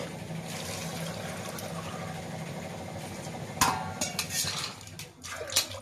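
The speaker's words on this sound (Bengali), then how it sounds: "পরিমাণ মতো জল দেবো" Water being poured into a cooking pot while making luchi and mangsho ghugni: a clattering, splashing pour with metallic knocks of the pot, close and moderately loud after a stretch of quieter kitchen background.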